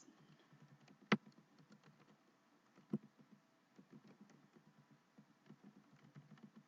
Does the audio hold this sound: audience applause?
no